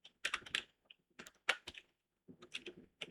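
A command is typed on a computer keyboard while setting up a Git repository: clusters of close, crisp key clicks come in three short bursts separated by pauses, with no talking.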